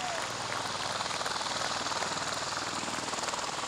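A loud, steady roar of an aircraft near an airport at a flight school groundbreaking, a broadband rumbling wash with fine fluttering texture that stays constant throughout and sounds close.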